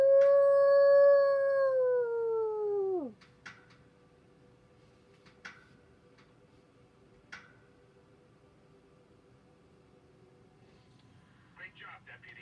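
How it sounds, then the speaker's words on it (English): A single long wolf howl in the Far Cry 5 video game rises, holds for about three seconds and then drops away, followed by quiet background with a few faint clicks and brief sounds. "there's a wolf howling in the background."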